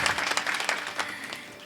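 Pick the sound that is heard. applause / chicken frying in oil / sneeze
applause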